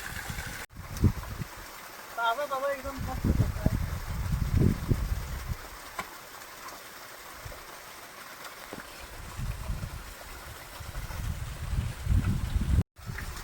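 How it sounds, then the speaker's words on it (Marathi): A small mountain waterfall stream flows as a steady, moderate rush of water, with a person talking briefly over it and some rustling and handling noises close by. "तर हा मिनी धबधबा एक छोटासा धबधबा"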